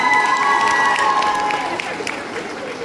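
An audience at a fantasy and Japan fan fair cosplay contest applauds, loud sustained clapping mixed with crowd noise and a steady tonal hum, easing slightly toward the end.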